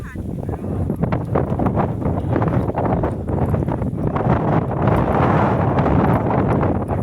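Strong sea wind on a coastal hill in Mabini, Batangas roars and buffets the microphone continuously, loud and rumbling throughout.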